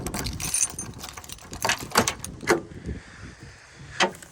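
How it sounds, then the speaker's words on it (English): A vehicle door with clicking mechanisms and latch sounds is opened after an electrical fire in the car, giving several sharp clicks and clunks near the microphone, with no talk. "let me open the door so I can show you"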